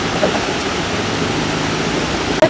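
Waterfall and spring water at the Tukad Arca bathing place in Bali make a steady, close, full rush of splashing water that runs unbroken from start to end.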